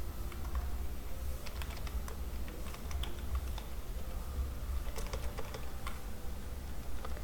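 Steady computer keyboard typing while code is entered, a dense run of quick, irregular key clicks that carries on throughout at a close, moderate level with no one speaking.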